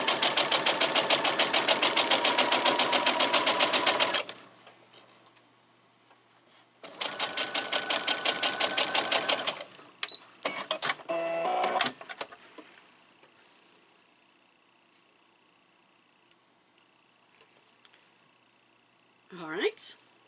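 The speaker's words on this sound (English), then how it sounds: "And then I'm going to sew." A sewing machine stitches pre-cut quilting fabric in two steady bursts of rapid, even needle rhythm. Between them come quieter handling noises and brief clicks, with a short sound near the end.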